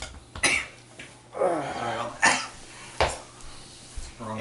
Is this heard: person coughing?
yes